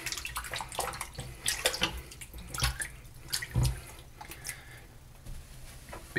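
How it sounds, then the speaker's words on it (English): A hand is rinsed under running tap water at a sink, giving an uneven splashing and trickling with irregular louder spatters as the hand moves through the stream. "rinse my hand real quick"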